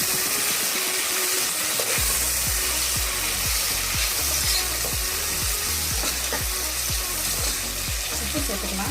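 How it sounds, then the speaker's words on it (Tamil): Soaked tomatoes sautéing in an oily pan for vegetable biryani, a constant loud sizzle with rhythmic spatula scrapes stirring through it, close up and without voices. "ஒரு கைப்பிடி தக்காளி சேர்த்துக்கோங்க, ஊற வச்ச தக்காளி. எல்லாத்தையும் நல்லா வதக்கி விட்டுருங்க."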